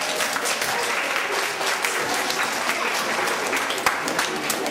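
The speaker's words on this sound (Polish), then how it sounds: "Brawa." Steady applause from an indoor crowd at a youth swimming club's Christmas gathering, dense continuous clapping at even loudness throughout.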